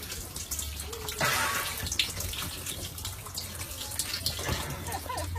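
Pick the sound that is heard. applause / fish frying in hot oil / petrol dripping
petrol dripping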